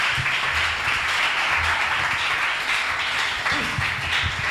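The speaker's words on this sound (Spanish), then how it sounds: "Dale palmas fuertes, hermano, a ese Dios maravilloso." A church congregation claps hands together during a sermon, a steady stream of rhythmic applause that continues under roomy background noise.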